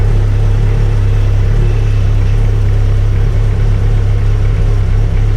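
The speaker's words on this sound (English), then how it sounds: "Now that rough idle you're going to hear is going to be the can." A 25-year-old Dodge Neon ACR with a newly installed motor idles roughly and loudly up close, a steady low engine drone with an uneven, lumpy pulse running throughout.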